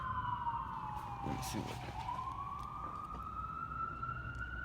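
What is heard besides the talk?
ambulance siren passing by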